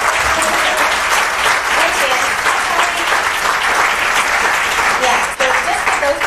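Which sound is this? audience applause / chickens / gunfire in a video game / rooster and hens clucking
audience applause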